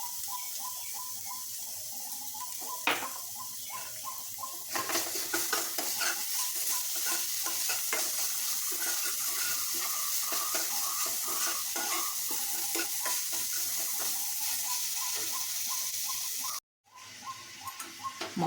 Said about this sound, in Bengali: মশলাটা ভালো করে ভাজতে হবে।